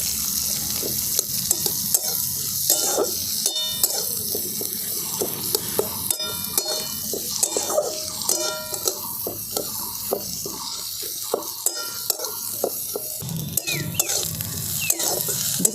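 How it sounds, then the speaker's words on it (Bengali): Onion and carrot fry in a pan as they are stirred, giving a continuous close sizzle broken by frequent scraping strokes of the spoon, with no talking. "দেখুন গাজর আর পেঁয়াজটা ভালো করে ভাজা ভাজা করে নিয়েছি।"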